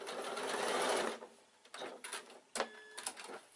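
Sewing machine top stitching leather-look fabric: a loud, fast whirring burst of stitching for about a second, followed by shorter stop-start runs and small mechanical clicks.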